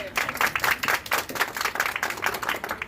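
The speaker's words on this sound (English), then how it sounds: "let's give ourselves a round of applause" Applause breaks out from an audience at the Walvis Bay community talk event, a steady stretch of clapping that carries on for about three seconds at moderate volume with no voices over it.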